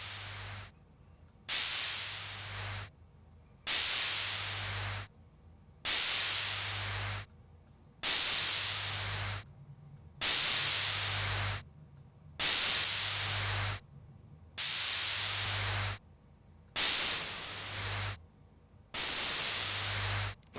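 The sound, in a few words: white-noise special effect from free spectral plugin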